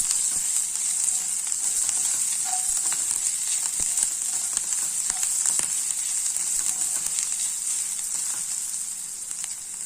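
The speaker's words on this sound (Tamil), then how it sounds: "இப்போ வெங்காயம் வதங்குறதுக்கு கொஞ்சம் உப்பு சேர்த்துக்கிறேன் நல்லா வந்து ப்ரௌன் கலராக மாறணும்" Onions frying in a pan with salt added for a paneer pepper masala, producing a constant, even hiss of sizzling oil with faint crackles, steady for the whole stretch and gently fading toward the end, no voices.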